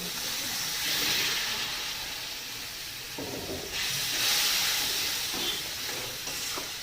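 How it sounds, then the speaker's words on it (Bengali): Spice masala with coriander powder frying in a pan, a little water added, gives a steady broad hiss and sizzle with louder steamy surges and occasional stirring scrapes, fairly close and continuous. "দিয়ে এবারে মশলাটাকে কষাতে হবে ভালো করে। দিয়ে দেবো সামান্য পরিমাণ জল।"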